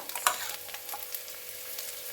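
Onions frying in oil in a pan with garlic paste, a soft steady sizzle with a brief louder spatter near the start, fairly quiet and without voices.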